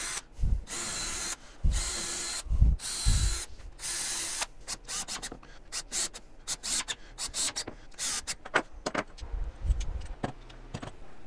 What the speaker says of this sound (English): I'm going to screw the back edge